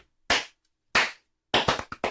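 A crowd claps along out of time: six sharp, fairly loud claps at uneven intervals, with long gaps early on and then a quicker, ragged cluster near the end. No one talks.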